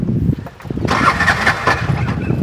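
A motor vehicle engine cranks and fires, then revs loudly up close in a short, rough burst, the throttle rising and falling as it races.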